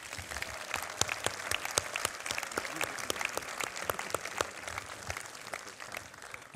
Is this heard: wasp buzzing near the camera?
no